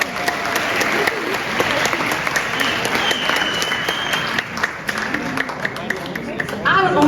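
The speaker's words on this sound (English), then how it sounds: "so please give them a round of applause" A community event audience claps steadily for several seconds, with scattered cheers and a whoop rising above the applause and murmuring voices underneath.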